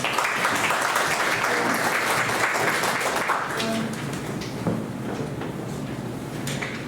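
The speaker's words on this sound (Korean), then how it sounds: "박수하겠습니다." Church New Year ceremony audience applauding, a dense burst of clapping that tapers off midway, followed by fainter scattered sounds and some talk.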